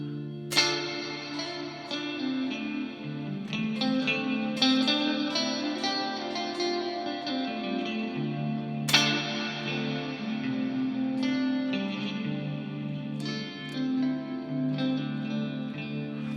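An electric guitar rings out through a Walrus Fundamental Reverb pedal on its plate setting, with sustained chords and picked notes blooming into a smooth, steady wash of reverb that fills the whole passage.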